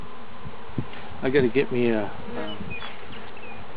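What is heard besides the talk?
honeybee swarm buzzing while being put into hive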